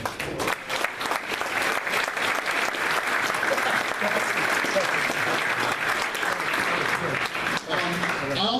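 A hall of fame induction crowd breaks into sustained applause, dense and loud clapping from a large audience that holds steady throughout with faint voices mixed in.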